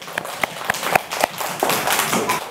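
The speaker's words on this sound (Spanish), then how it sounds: "Un aplauso fuerte." A small class of children in a rural school claps in a quick, uneven burst, a few distinct claps at first then a brief cluster of applause, close by in a room.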